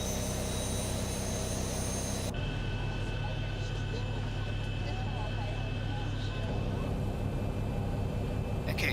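A Boeing 737-800 jet engine spools up in the X-Plane 11 flight simulator, a steady broadband roar with a rising whine that shifts tone partway through, continuous and fairly loud beneath a talking voice.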